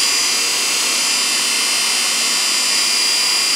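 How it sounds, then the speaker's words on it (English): An electric motor spins steadily during a rotary transformer torque test, giving a continuous, loud, even high-pitched whine and hiss that holds without a break and without any talk. "So we've gained some more speed and more torque out of the motor shaft."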